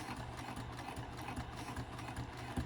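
A sewing machine stitches a wristlet clutch with a quiet, steady mechanical hum and soft rhythmic needle clatter, running continuously without talk.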